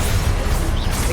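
A Confringo blasting spell strikes in Hogwarts Legacy, a dense, roaring burst of noise with a heavy low rumble that stays loud for its whole length, with no pause or quiet tail.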